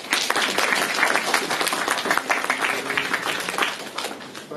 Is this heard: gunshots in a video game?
no